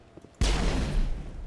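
One loud, booming gunshot in Mass Effect, a sudden heavy blast with a rumbling tail that lingers after a quiet moment.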